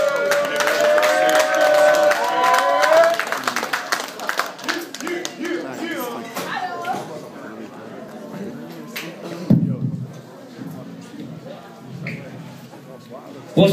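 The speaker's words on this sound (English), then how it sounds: "Clap it up. Clap it up." A crowd claps and cheers loudly at a live event for Nakaya, a dense wash of applause and shouts under an amplified voice, tapering off after a few seconds.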